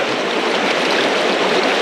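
River water rushing steadily beside a gold panning spot in Scotland, a dense, continuous broadband wash close to the listener, with no voices over it.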